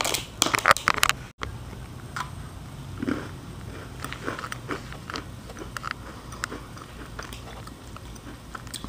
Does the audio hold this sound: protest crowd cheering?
no